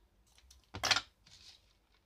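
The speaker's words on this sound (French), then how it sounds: "Il faut couper un petit morceau." Scissors snipping a small piece of wool: one quiet, crisp cut with a short rustle before and after, close up in a quiet room.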